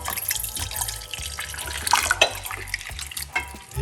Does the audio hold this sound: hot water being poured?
yes